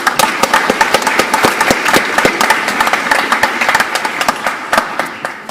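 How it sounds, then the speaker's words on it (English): Audience applause at a school senior awards ceremony, loud and close, with many sharp individual claps forming a lively, sustained round that continues steadily without talking. "A big round of applause."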